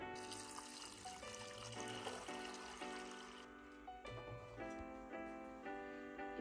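Water pours into a pot holding five eggs, a soft, faint continuous trickle, close by and heard alone.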